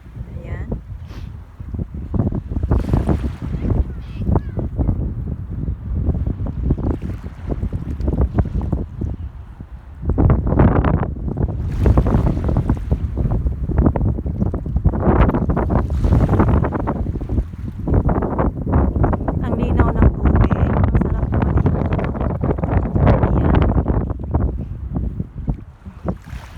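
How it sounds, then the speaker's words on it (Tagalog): Strong, cold winter wind at the coast near the mouth of Vancouver Island, roaring and buffeting against the microphone in loud gusts with the sea behind it, almost without pause. "Ang lakas ng hangin pati."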